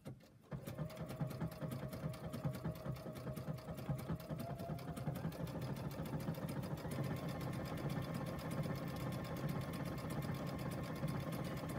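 Sewing machine stitching cotton fabric with a large needle, a steady fast mechanical whirring and rapid clicking that starts after a brief pause and runs on continuously, close and moderately quiet.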